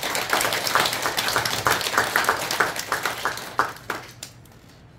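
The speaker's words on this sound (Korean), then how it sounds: "우리 주인공에게 우리 큰 박수 한번 부탁드립니다" A congregation at a Baekjung memorial ceremony in Mireuksa temple claps for the day's honoured sponsor, a fairly small group applauding briskly for about four seconds before the clapping trails off into quiet.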